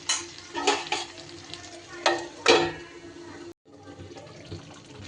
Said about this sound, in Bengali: মাঝে মধ্যেই কিন্তু একটু নাড়িয়ে দিতে হবে